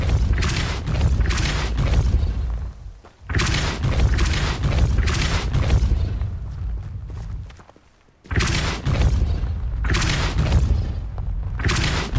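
Depulso spell blasts in Hogwarts Legacy, three loud booming bursts each followed by rumbling debris and crashing, separated by short quiet gaps, no talk.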